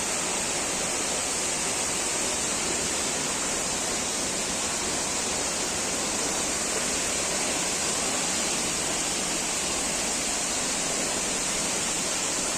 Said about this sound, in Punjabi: ਬੜਾ ਖੂਬਸੂਰਤ ਝਰਨਾ